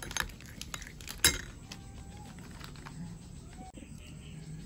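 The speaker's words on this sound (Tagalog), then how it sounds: "Mix natin mabuti mga kamami para maghalo yung kape at saka yung gelatin." A spoon clinks against a cup while stirring coffee and unflavored gelatin into a face mask mixture, a few sharp close taps scattered over a quiet background.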